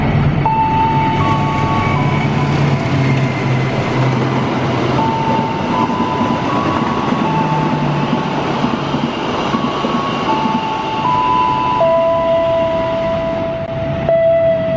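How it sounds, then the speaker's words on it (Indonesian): Cikuray passenger train hauled by a locomotive in a special 80th Indonesian Independence Day livery, rolling past steadily and loud throughout, with a continuous rumble and sustained tonal whines or horn-like notes shifting in pitch. "kereta api Cikuray ditarik oleh lokomotif livery HUT RI ke-80"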